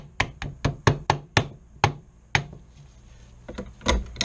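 Soft-faced hammer tapping pins into a Remington 870 shotgun, a quick run of close, crisp knocks, then a pause and a few more taps, with no talk.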